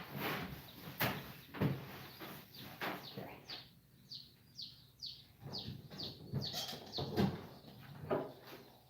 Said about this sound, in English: When you hear that chirping, they're not happy.